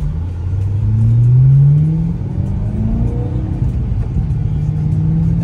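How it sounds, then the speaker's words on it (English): A 2009 BMW E92 M3 with a Meisterschaft exhaust accelerates hard, its engine note climbing in a loud rising sweep, easing off, then pulling up again through the gears close by. "That Meister shaft exhaust."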